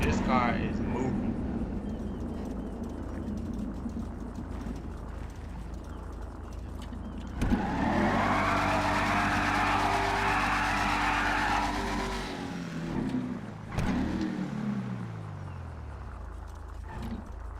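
A drag race car at a test-and-tune session, engine roaring through a hard pull with rising, shifting tones and tire noise, mixed with people talking in the background.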